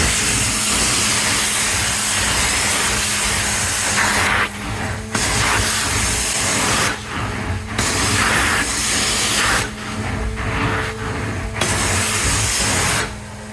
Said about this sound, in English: Okay, let's steam it out again.